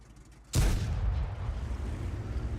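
A heavy tank cannon fires once in the online game World of Tanks, giving a sudden loud boom that rolls into a long rumbling tail, with low battle ambience beneath.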